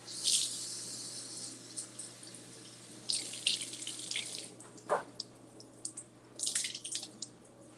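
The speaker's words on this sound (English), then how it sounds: "Rinsing my blueberries." Tap water splashes over blueberries being rinsed in a sink, running in close, uneven bursts with drips and short pauses.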